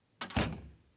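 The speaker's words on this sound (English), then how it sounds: "Shut the door." A door swings shut in a dramatized audio story, a single soft close thud after a short brush of movement, alone in a quiet room.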